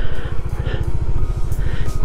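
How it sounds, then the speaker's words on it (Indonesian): Car engine labouring slowly on a rough, steep hillside road along a ravine edge in the southern Majalengka hills, a close, loud, low rumbling chug with an uneven pulsing beat. "Coba kita berikan mobil lewat dulu jalan."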